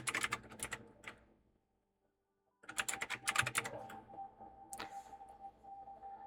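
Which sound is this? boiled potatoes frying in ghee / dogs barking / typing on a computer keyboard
typing on a computer keyboard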